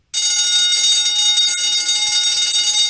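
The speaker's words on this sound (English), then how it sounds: "Ay caramba, that's the alarm." A fire station alarm bell starts abruptly and rings loudly and continuously, a harsh metallic clangor with no pause.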